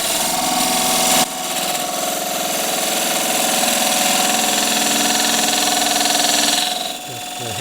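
A wood lathe turns a fiddleback eucalypt display bowl, giving a steady, loud machine drone with a broad scraping hiss from the cut that runs continuously, then briefly eases near the end.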